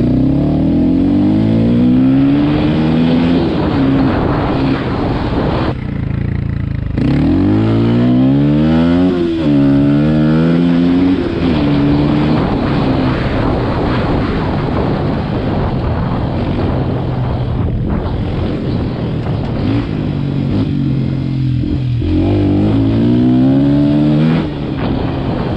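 A 2021 Beta RR125 LC 4T four-stroke dirt bike ridden off-road with the airbox open, its engine revving up and down through repeated rising and falling sweeps, loud and close throughout.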